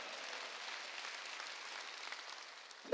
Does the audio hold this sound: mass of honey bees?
no